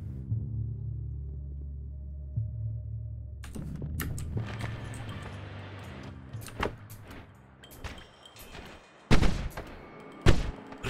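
A fire arc wand spell in Noita fires repeatedly after a quiet low hum, crackling bursts and sharp pops in irregular succession, with two louder blasts near the end.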